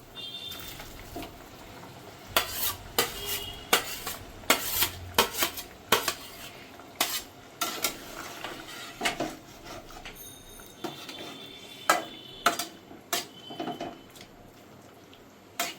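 Cauliflower florets tipped into a pan of boiled potatoes and stirred, with repeated sharp clinks and scrapes of a utensil against the pan in an uneven rhythm, close up and with no talking.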